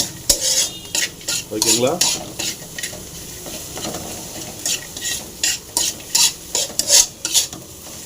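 Egg and bajji chili mixture is stirred in a hot pan, with loud, repeated metal scrapes and clinks over a continuous sizzle, and a voice speaks briefly.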